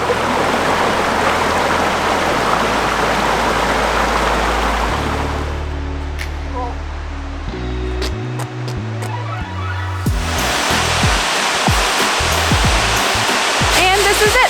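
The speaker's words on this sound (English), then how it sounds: "This is Second Branch Humes River Falls. It's a gorgeous waterfall." Second Branch Humes River Falls on Cape Breton Island roars as steady broadband rushing water, loud and close, with music briefly interrupting in the middle before the water noise returns.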